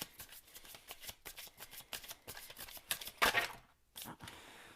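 Tarot cards are shuffled by hand up close, a quick run of crisp riffling flicks and soft slaps in uneven bursts, briefly pausing near the end before a little more shuffling.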